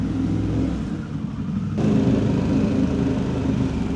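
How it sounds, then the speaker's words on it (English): A 2025 Harley-Davidson Pan America ST exhaust revving in a parking deck, a loud, close, steady engine roar that steps up in intensity about halfway through. "Little parking deck exhaust test."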